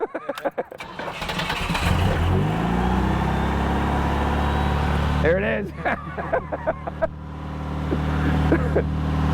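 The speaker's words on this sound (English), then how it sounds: "This is a sound that I haven't heard since the 90s, the startup of a Pontiac Fiero." A 1984 Pontiac Fiero engine cranks and fires up, then holds a loud, steady high idle close by, while someone talks briefly over it.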